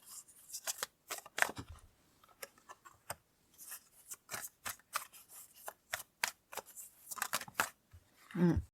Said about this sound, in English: I'm going to pull out some more cards to see what they're talking about.